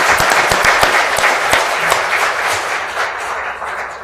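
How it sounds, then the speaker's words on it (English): Audience at a winter cannabis summit applauds the conference panelists, a dense, loud burst of clapping with a few sharp individual claps, holding steady and tapering slightly over four seconds. "let's give our panelists a big round of applause"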